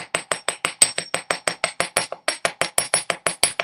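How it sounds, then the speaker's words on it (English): Rapid, even hammer strikes texturing wire for a beaded azurite necklace, about twenty sharp metallic taps close up with a bright ringing edge, steady rhythm and no talk. "I'm intentionally changing the angle that the hammer's coming from, so that the sides of the wire are also getting nice and textured"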